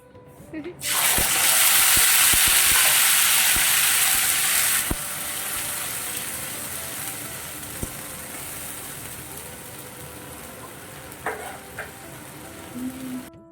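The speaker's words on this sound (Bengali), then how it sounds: "আমি এক্ষুনি লুচি ভেজে দেবো" Luchi frying in hot oil gives a loud, bright sizzle that bursts in near the start and settles to a quieter steady crackle, with scattered clicks and a few brief kitchen sounds later.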